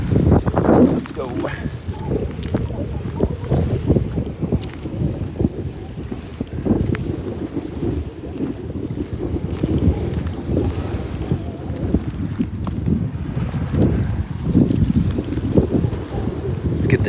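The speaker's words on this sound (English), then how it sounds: "It's too windy. It's so windy out here." Strong wind blows over open water near Cape Romano during a shelling outing, roaring and buffeting the microphone in continuous gusts with low rumbling, while people talk intermittently.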